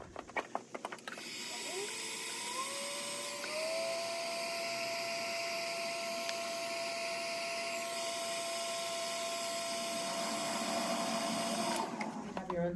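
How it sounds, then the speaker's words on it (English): A heat gun dries a clay bowl on a pottery wheel, blowing a loud, steady whine with a rising tonal edge that holds continuously for about eleven seconds before cutting off. "what I'm actually going to do is I'm going to heat gun this"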